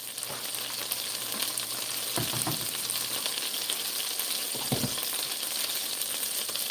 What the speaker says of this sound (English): put the lid over top to keep the heat in so that the patties could cook faster on the inside